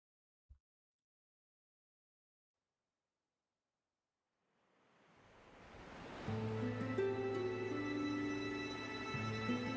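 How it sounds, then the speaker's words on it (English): Ocean waves washing onto a shore in a Genshin Impact character teaser, swelling in from silence after a brief click, then a steady surf wash joined by soft sustained tones, moderately loud. "The sound of waves upon the shore and the rustle of leaves in a bamboo forest"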